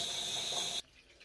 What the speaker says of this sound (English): open up the closest faucet so that way I can start bleeding all the air out of the water softener and conditioner